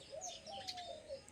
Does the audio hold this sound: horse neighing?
no